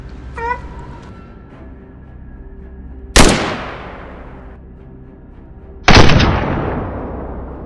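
Two loud gunshots at a wild boar hunt across a field, each a sharp blast with a long fading echo, spaced a few seconds apart, with a brief animal cry and faint background hum before them.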